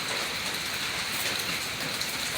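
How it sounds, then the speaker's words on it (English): Rain falling outside in a steady, dense hiss with no pauses, evenly loud and close, with no voices over it. "it's raining outside"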